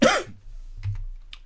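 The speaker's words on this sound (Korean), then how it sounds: "기침이 나오죠" A single short cough at close range, a sharp burst at the start followed by quieter throat sounds and faint clicks, with no talk over it.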